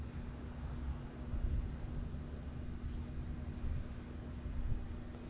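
A DJI Mini 2 drone flies out over a forest, its steady whirring hum and airy rush holding at a fairly even level, with slight swells, throughout.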